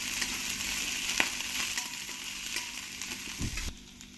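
Broccoli and cauliflower florets sizzle in hot oil in a pan after onions have cooked, a steady close crackling fry with occasional stirring clinks and scrapes, no voices.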